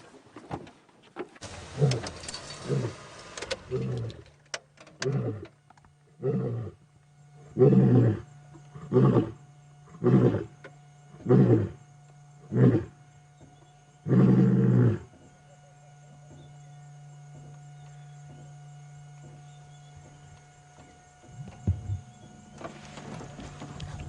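Male lion on the move at sunset on safari, delivering a long series of deep, rhythmic roars that build up and then taper into grunts, close and loud, with a vehicle engine idling in the background.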